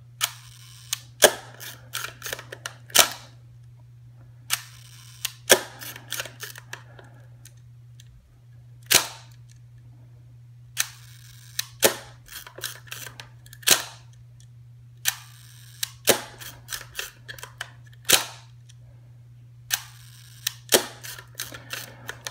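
Hasselblad 500CM shutter and mirror firing repeatedly at a half-second setting, each release a sharp mechanical clack followed by a second clack, spaced a few seconds apart over a steady low hum.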